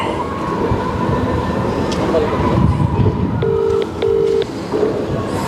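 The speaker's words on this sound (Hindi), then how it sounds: "ये कस्टमर सर्विस नंबर अभी डायल करूँगा" A phone on speaker dials a customer service number, giving a few short, clean dialing tones in quick succession over a busy background with people talking.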